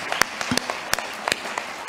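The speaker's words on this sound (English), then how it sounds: "Big applause to my three panelists" Sparse applause from a small audience at an award event, a handful of distinct, fairly close claps scattered over a quiet background.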